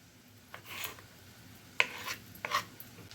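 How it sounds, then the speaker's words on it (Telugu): A knife slices tomatoes thinly on a board for a tomato egg fry curry, giving a few soft, quiet cuts spaced irregularly against a faint kitchen background. "సన్నగా కట్ చేసుకోండి టమాటాలని"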